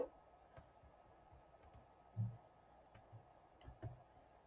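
A few isolated clicks of a computer keyboard as a number key is pressed, quiet and sparse against a low room hum, with no talking.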